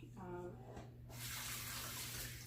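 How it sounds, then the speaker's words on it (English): Hot pasta water poured off from a large pot into a strainer for lasagna, a sudden broad gushing rush that starts after a brief tonal sound and continues steadily up close. "I'm just going to pour a little water off at a time because this pot is large"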